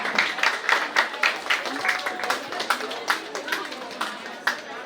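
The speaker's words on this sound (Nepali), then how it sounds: "फेरि तालीको आवाज चाहिँ एकदम सानो भएको छ।" Scattered, modest clapping from a small group, fairly thin and uneven in rhythm, continuing for several seconds with faint murmuring beneath.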